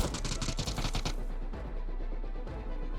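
Rapid bursts of automatic gunfire in PUBG Battlegrounds, loud and dense for the first second, then thinner scattered shots and rumbling game noise continuing under the mix, with no voices.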